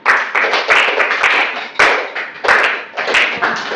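Classroom audience giving applause for a student group's presentation, loud close clapping in several bursts of varying intensity.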